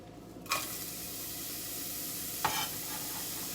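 Onions sizzle steadily in a hot pan with little oil, a continuous crackling hiss broken by two sharp stirring scrapes; no voices.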